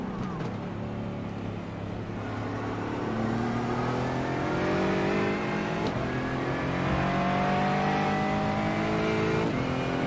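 Onboard engine of a GT4 race car in the iRacing simulator at Daytona International Speedway, a loud steady drone rising in pitch through the gears as the driver short shifts, with no speech.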